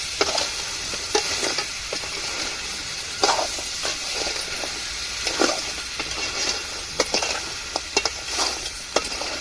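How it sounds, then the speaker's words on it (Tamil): Food frying in a pan is stirred well before it is covered, giving a steady sizzle broken by repeated sharp scrapes and clinks of the utensil, with no talking. "இப்போ நம்ம நல்லா கிளறி விட்டுட்டு நம்ம மூடி வச்சு மூடிக்கணும்"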